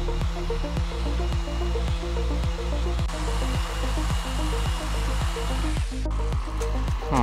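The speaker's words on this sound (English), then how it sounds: "Use your sander to clean up the rest." A power sander works over a repaired crack in wood, a steady loud whir with a regular pulsing rhythm throughout, close up and alone with no talking.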